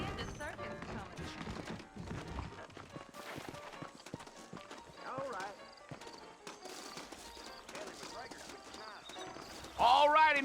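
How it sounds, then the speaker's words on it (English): Horse hooves clip-clop in Red Dead Redemption, rhythmic hoof beats mixed with game sounds while people talk over them. "I got the horses saddled up and ready out front."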